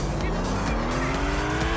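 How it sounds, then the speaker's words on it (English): Race car in a 2003 F1-style racing video game striking a wall and spinning out, steady engine drone with tire squeal and skidding throughout, loud and close. "Ooh, he hit the wall and he spun it!"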